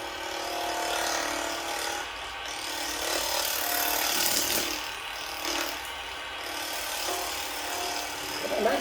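A leather baseball spins on a wood lathe at about 2200 RPM while a tool cuts into its leather and seams. The scraping, rasping cut is steady and close and swells and eases in waves.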